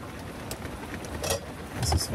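A heavy hailstorm with thunder beating on a camper van roof in southern Croatia, a dense close rattling roar with a deep rumble swelling toward the end.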